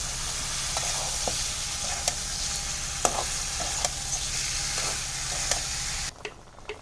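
Fish frying in spices for a curry, with a steady loud sizzle and regular spatula clicks against the pan, then the frying cuts off abruptly near the end, leaving quiet.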